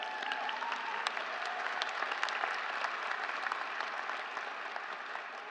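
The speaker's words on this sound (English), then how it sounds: "I think that's worth clapping for." Sustained applause from a large crowd at a polytechnic convocation ceremony, dense and steady clapping that continues without pause.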